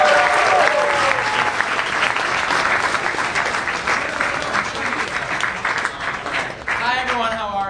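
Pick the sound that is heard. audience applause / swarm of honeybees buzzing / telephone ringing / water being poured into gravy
audience applause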